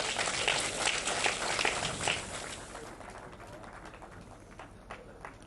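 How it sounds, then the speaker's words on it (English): Applause for a winner at the 2014 Innovation Prize for Africa award ceremony: a dense wash of clapping that starts fairly full, then thins and fades over the last few seconds. "A round of applause."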